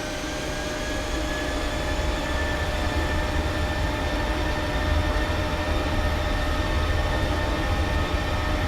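Airliner engines spooling at takeoff thrust in the Prepar3D v4 flight simulator, a steady loud roar with sustained high whining tones, continuous and unbroken throughout, no voices.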